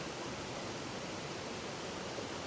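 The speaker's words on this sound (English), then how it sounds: "I could just stand here and listen to that fabulous water sound" Steady broadband rush of a stream flowing past a bridge in Springbrook National Park, an even, continuous wash of moving water with no voices.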